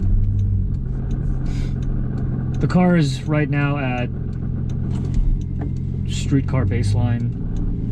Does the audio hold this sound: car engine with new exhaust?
yes